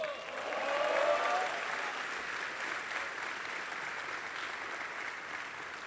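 Troops applauding at Fort Bliss, El Paso: a large crowd's sustained clapping, swelling in the first second and then holding steady as a dense, even roar of many hands.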